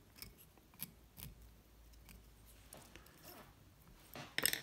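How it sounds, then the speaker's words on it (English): Small scissors snip dubbing fibers on a fly being tied, making a few faint crisp clips spread across the moment and a brisker cluster of snips at the end. "just trim up some of the longer fibers and hairs."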